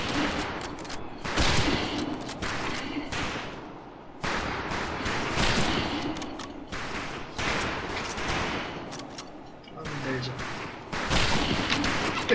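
Springfield rifle fire in Medal of Honor Pacific Assault, with repeated gunshots amid a dense battle din of surrounding gunfire and explosions, continuing throughout.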